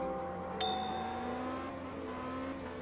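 A van drifts in the racing video game Absolute Drift, its engine droning steadily with a rising pitch as it accelerates, a thin whine and faint tire noise over a low, even hum, moderately quiet and continuous.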